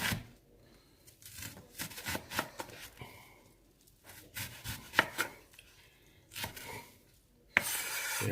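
A knife slicing an onion on a cutting board in a home kitchen, with a series of crisp, close chops in irregular bursts, some quick and some spaced apart, and a louder cut near the end.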